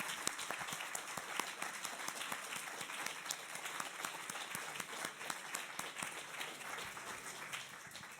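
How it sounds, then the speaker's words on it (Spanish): Lecture audience at a library masterclass breaks into sustained applause, many hands clapping in a steady, fairly distant-sounding wash that holds evenly across the whole stretch. "un aplauso"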